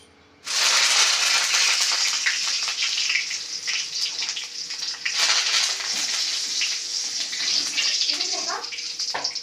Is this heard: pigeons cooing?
no